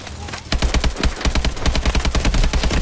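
Rapid bursts of gunfire from a gun in the video game Call of Duty: Advanced Warfare, loud and close, starting after a brief lull and continuing as a steady rhythmic string of shots.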